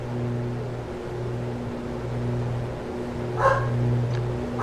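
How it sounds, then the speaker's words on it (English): A dog gives a brief bark in the background, faint against a steady droning hum that runs through the whole stretch. "What are they barking about? Can somebody shut the dogs up, please?"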